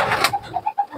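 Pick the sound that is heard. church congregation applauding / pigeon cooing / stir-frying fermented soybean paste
pigeon cooing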